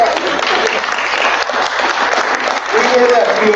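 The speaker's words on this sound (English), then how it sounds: "Give us a round of applause" Conference audience at the 50th anniversary of El Plan de Santa Bárbara breaking into loud, dense applause that holds steady throughout, with a voice briefly audible over the clapping.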